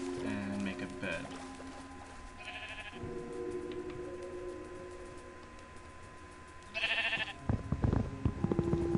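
A few Minecraft sheep bleats sound over a steady background of game music and ambient noise, with short bursts of effects between them.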